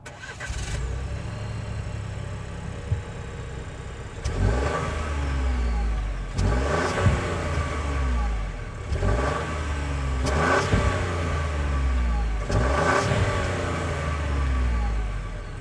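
A 1.2-liter turbocharged three-cylinder engine in a 2024 Buick Envista Avenir runs steadily, with several rising revs at regular intervals above its low rumble, close by and fairly loud.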